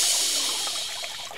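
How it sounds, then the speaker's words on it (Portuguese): Water from an upturned shell splashes and trickles steadily onto the ground, a continuous bright hiss with small burbling splashes, close and alone. "ele virou a concha de cabeça para baixo, deixando a água cair no chão."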